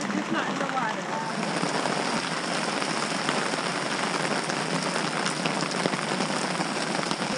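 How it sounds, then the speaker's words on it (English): Heavy rain pours down at a campsite in Point Farms Provincial Park, a dense, steady hiss of drops drumming on surfaces, loud and close throughout with no break. "So we had a major downpour here"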